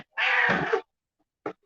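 A cat lets out one drawn-out, close meow, followed after a pause by a brief second chirp-like meow, in an otherwise quiet room.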